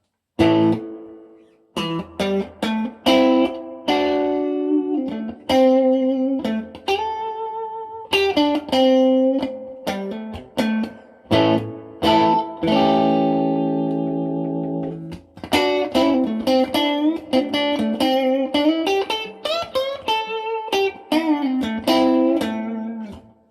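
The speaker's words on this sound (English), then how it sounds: "I've got this on the spring reverb setting" An electric guitar played through a spring reverb plays chords and picked notes, each ringing out with a splashy, drippy reverb tail, loud and close, with brief pauses between phrases.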